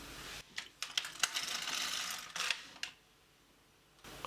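A knitting machine carriage makes a single pass across the needle bed, a faint rattling, clicking mechanical slide lasting a couple of seconds, followed by quiet and a small click.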